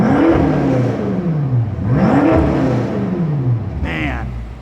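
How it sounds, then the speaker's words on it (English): A BMW M6 Competition Edition's engine is revved repeatedly inside a parking garage, with three rising and falling swells booming off the concrete, followed by a brief higher burst near the end. "So we'll have Trish do a little bit of rev time down here."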